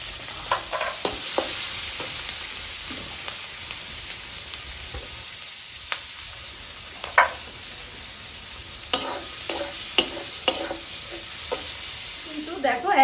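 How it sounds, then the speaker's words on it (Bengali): Onion and tomato frying in hot oil in a wok for chicken chowmein, a steady close sizzle broken by scattered sharp scrapes and clatters of stirring. "এবার আমি পেঁয়াজটাকে আর টমেটোটাকে ভেজে চাউমিনটা দেব"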